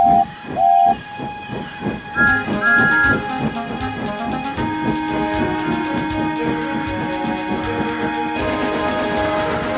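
Rhythmic chuffing of a steam train with hissing steam and whistle-like tones, a steady dense rumble building and continuing throughout.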